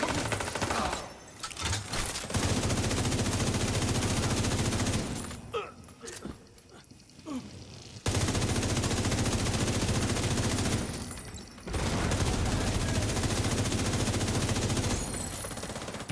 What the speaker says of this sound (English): Tried to shoot the grenade out of the air, but didn't catch it.